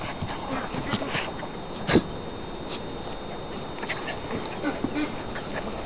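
Kuvasz puppies giving small whimpers and yips at close range over a busy, noisy background, with one sharper cry standing out near the middle.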